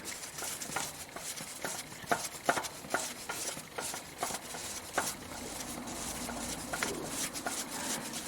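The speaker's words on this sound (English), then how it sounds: "let's continue unscrewing that filter" A spin-on oil filter on a 2000 Acura 3.2 TL is turned loose by hand, giving faint irregular scraping and gritty clicks with soft scuffs, quiet and close, with no talking.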